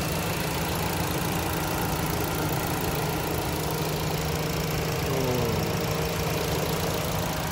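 A 2018 Mitsubishi Xpander Exceed with a manual gearbox idles with the engine bay open, giving a steady, even engine hum with a faint mechanical whir, recorded close up, constant throughout and with no talking.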